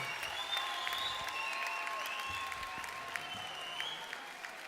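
Audience applause for a band at an afternoon ceremony, a steady wash of clapping that holds for several seconds with faint tonal sounds above it.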